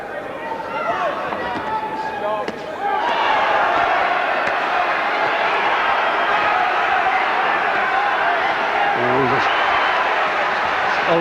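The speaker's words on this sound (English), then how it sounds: "Crowd are going mad now, standing up round the ring here" At a boxing match, a loud crowd roars around the ring. The noise swells into a sustained din of cheering and shouting while a commentator talks over it.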